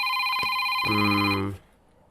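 A telephone rings during a call home: a brief electronic ringing tone with a steady pitch, then a lower buzzing tone that cuts off abruptly into quiet.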